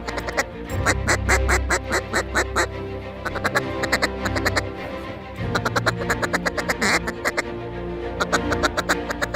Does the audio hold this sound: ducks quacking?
yes